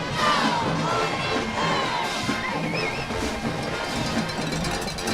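A loud, steady roar from the crowd at a high school football game between Parkview and Bryant at Hornet Stadium, with the Parkview marching band in the stands, dense and continuous throughout.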